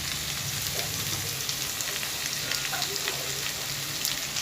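Ground turmeric, cumin, coriander and black pepper go into pointed gourd and potatoes frying in oil, giving a steady, close sizzle that runs throughout with faint stirring.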